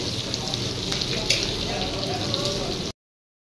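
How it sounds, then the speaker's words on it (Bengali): Chopped onions frying in oil toward golden brown for mutton kosha, cooked outdoors at Digha beach, giving a steady close crackling sizzle with faint voices beneath. "সেই সঙ্গে কেটে রাখা পেঁয়াজ, এখন গোল্ডেন ব্রাউন করে একটু ভেজে নেব।"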